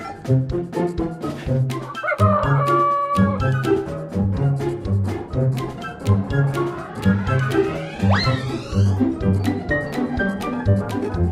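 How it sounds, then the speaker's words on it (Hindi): Several cartoon roosters crow and squawk over a busy rhythmic backing, with a long rising crow near the end. "तरह तरह के मुर्गे शोर मचा रहे थे।"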